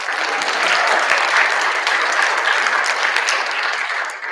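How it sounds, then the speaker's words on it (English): A school orchestra concert audience claps steadily for a bass player being introduced. The dense applause holds at an even level for about four seconds and fades slightly at the very end. "go ahead and clap."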